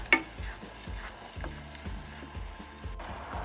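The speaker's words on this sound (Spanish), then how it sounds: "revolver y esperar que hierva" Sugar syrup being stirred in a pot as it heats, with steady rhythmic scraping strokes about twice a second, close and fairly quiet, with no voices.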